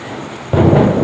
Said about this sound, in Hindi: सबसे पहले देखिए कितनी तेज़ बादल गरजने की आवाज़ आई है।